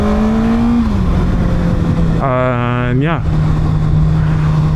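A 2024 Kawasaki ZX6R motorcycle on the highway, its engine droning steadily, then rising in a quick rev with a gear shift before settling again, under constant wind roar and a brief spoken voice.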